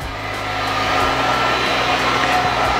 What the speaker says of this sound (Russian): Фен используем, как правило, только для того, чтобы просушить края и все это дело прижать.